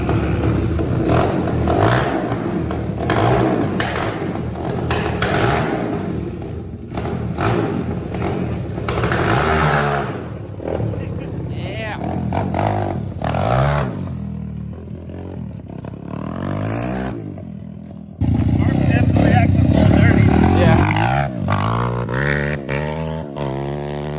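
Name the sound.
ATC 190 mini trike engine running, choke on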